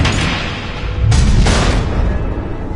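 Missiles exploding in the video game Batman: The Enemy Within, a loud broadband rumble with two heavier booming bursts near the middle, close and dense with no voices.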